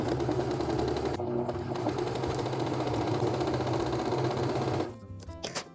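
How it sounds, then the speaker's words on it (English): An old sewing machine stitching fabric runs in a fast, continuous mechanical whir with a steady rhythmic clatter, close and loud for most of the stretch before slowing and stopping with a few last knocks. "This here is my mom's old sewing machine she decided to take out of hiding."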